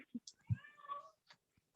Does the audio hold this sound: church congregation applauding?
no